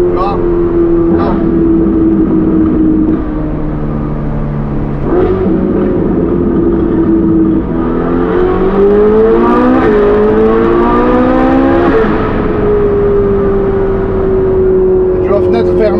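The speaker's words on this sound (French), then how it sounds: "Tu vois, fenêtre fermée, t'as la résonance du V8 qui est juste derrière nous là." A Ferrari V8 revs repeatedly behind the cabin, heard from inside with the windows closed, its pitch rising and falling through several climbs; a person talks over the steady, resonant engine drone.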